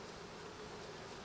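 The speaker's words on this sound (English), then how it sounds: "But here they are. All kinds of bees." Bees swarm at the landing board of a freshly installed package hive, many of them dead in the group, producing a steady, dense drone that fills the short stretch without pause.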